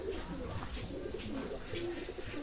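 Pakistani teddy pigeons in a loft coo softly and repeatedly at close range, their low, rolling calls overlapping against a faint steady background.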